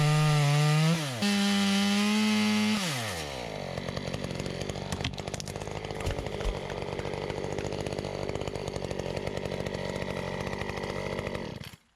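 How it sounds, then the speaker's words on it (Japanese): A Husqvarna chainsaw cuts through the trunk of a felled garden tree. It begins with a high revving whine and a couple of pitch shifts, then settles into a steady, loud, gritty bite through the wood that runs on until it cuts off abruptly. "お気に入りのハスクバーナーでね、切っていってもらってます"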